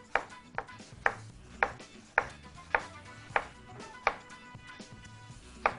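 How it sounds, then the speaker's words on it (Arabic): A knife chops tomatoes into slices on a cutting board in a restaurant kitchen, with about a dozen crisp, evenly spaced cuts that are close and clear, with no talk. "نجيب عندنا الايه الطماطم ونقطعها عندنا شرايح بالشكل ده"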